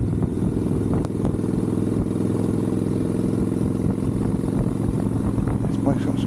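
A Harley-Davidson Nightster XL1200 motorcycle on the road gives a steady, low engine drone mixed with wind noise, with voices talking over it.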